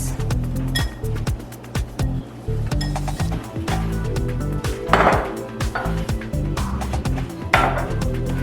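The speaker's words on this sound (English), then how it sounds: "Whisk together the dry ingredients." Dry waffle batter ingredients, including salt, whisked together in a bowl, a rapid run of clinking whisk strokes against the bowl's side, close and fairly loud, with a couple of heavier scrapes partway through.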